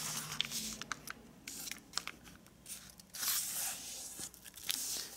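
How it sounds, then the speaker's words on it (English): Paper being folded diagonally in half for an origami jack-o-lantern, heard as soft close crinkles, taps and rustling creases in short irregular bursts, quiet and alone. "let's fold diagonally in half"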